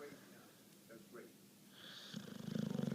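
Dog snoring as it sleeps, a rough rhythmic snore building in loudness to repeated pulses near the end, with a person's voice faintly in the background earlier.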